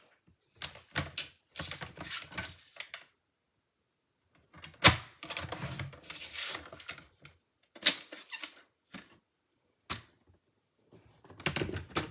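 Base paper being folded for a handmade card: close scattered rustles, sharp creasing swipes and a few soft thunks against a table, separated by quiet gaps.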